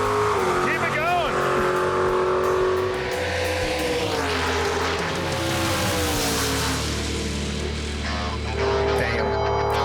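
A nitrous-fed 1971 Dodge Demon makes a drag racing pass: loud, sustained engine roar that rises in pitch through the run, with people talking and shouting over it throughout.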